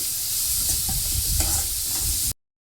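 Onion pieces fry in a pan for a bitter gourd curry, a loud, close, steady sizzle with soft scraping stirs mixed in, ending abruptly with no talking.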